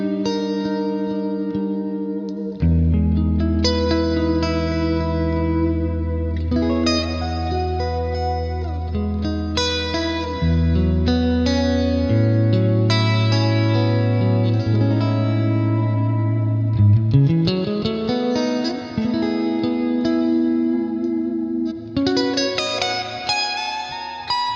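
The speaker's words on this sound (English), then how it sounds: "another tone which I'm using here is actually like a spacey type clean thing" A clean, spacey electric guitar tone from single-coil pickups through the Neural DSP Archetype: Plini plugin, with chorus, echo and reverb, plays sustained chords and melodic lines loudly and alone for over twenty seconds.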